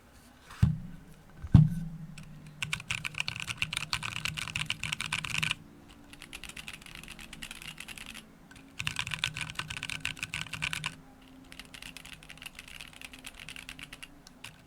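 Typing on an ABQ mechanical keyboard gives a hollow, resonant clatter of rapid keystrokes in several bursts separated by short pauses, close and clear with no talking.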